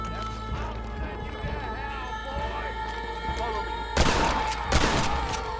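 Gunfire during a Red Dead Redemption shootout in the video game, with rapid bursts of shots breaking out over busy game noise and music, and voices speaking earlier.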